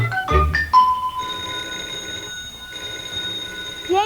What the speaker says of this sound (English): the telephone's ringing